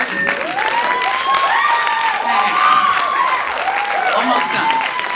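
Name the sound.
audience applause at a comedy show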